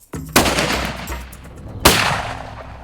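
Two loud rifle shots on a buffalo hunt in remote Tanzania, each a sharp crack with a long rolling echo, fired about one and a half seconds apart with no talk.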